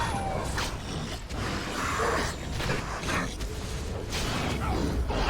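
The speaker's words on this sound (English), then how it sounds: "That was a roar that sounded like a steel door." A continuous grinding, creaking roar like a heavy steel door scraping open fills a Dragon Age: Origins game scene, a dense metallic rumble that swells and fades over several seconds.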